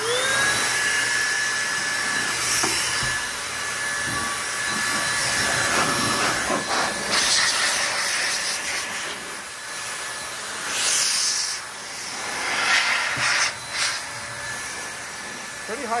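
An Air Force Blaster SideKick air dryer blasts dust off a surface with loud, close whooshing bursts of air that rise and fall, pausing briefly between blasts.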